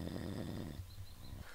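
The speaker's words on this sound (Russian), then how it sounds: "Проснулся от того, что храп дикий в двух гамаках" Loud, rough snoring from a person sleeping in a hammock on a small island during an overnight pike-fishing trip with kayaks, a few heavy rattling breaths close by, then fading into quieter breathing.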